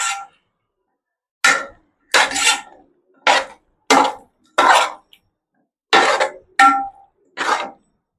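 A spoon scrapes and clatters against a pot as fried onions are mixed into egg dum biryani, in eight separate short bursts with brief pauses between them, close and fairly loud.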